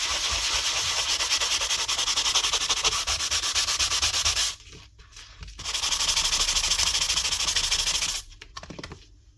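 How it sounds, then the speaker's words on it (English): Steady, close rasping of a sanding block polishing a metal reed valve from a Paslode nail gun, rubbing back and forth in two long stretches separated by brief pauses. "just get a sanding block and polish it."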